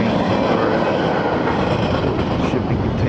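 A freight train carrying shipping containers rolls past nearby with a loud, continuous rumble and rhythmic clickety-clack of wheels on rails, heard with no talking.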